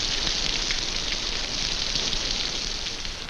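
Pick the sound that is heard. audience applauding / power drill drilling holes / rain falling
rain falling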